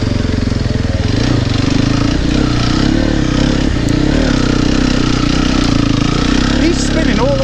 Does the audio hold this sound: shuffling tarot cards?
no